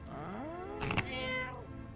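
Cat meowing in a video game, one long drawn-out meow rising and falling with a brief scratchy burst partway through, clear and alone without talk.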